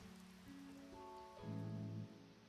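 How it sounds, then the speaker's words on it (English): Rain falls in the relaxing video game Douse, a steady soft patter spread across the clip, with gentle tonal game music notes swelling over it and briefly growing louder toward the end. "Just using the rain to make the trees grow."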